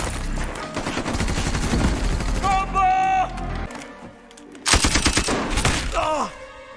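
Gunfire from the action film Counterattack, with bursts of rapid automatic shots and louder single blasts between quieter gaps, mixed with movie sound effects and a short spoken line.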